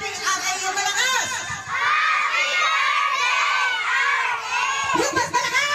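Young children at a first birthday party shout together loudly on cue, a sustained crowd of high voices with a brief adult voice near the end.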